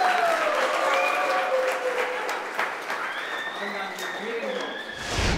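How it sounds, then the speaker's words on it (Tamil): A large audience at a Tamil New Year special debate show bursts into sustained loud clapping that fills the hall, steady and dense for several seconds without a break. "பெரிய கரகோஷம் கொடுத்து அவங்களை அன்போடு வரவேற்கிறேன்"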